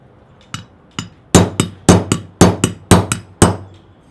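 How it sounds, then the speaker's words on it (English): A roll pin being hammered out of a trigger guard installation block: about eleven sharp, close metallic hammer strikes, first spaced apart and then in a quicker steady rhythm, with no talking. "take your roll pin, hammer it out"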